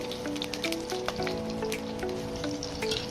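Whole cumin seeds and two green chillies sizzle in hot oil in a pan, a steady close crackle and spatter with scattered pops and no voices.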